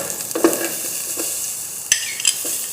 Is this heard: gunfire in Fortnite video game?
no